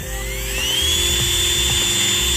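A small electric nail drill whines at a steady high pitch, running continuously close by with a faint hum beneath it.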